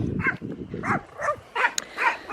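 Dogs bark in short repeated bursts near a goat house on a farm, several barks in quick succession at moderate distance with no talking.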